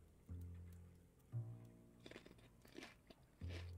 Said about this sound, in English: Dude, I'm chewing so loud, dude.